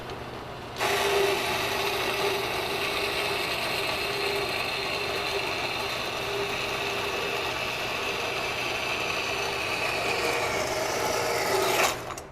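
A power saw cutting 1x1 by 1/8 inch angle stock into short pieces against a fence, a loud continuous whining buzz held steady for about eleven seconds before cutting off abruptly.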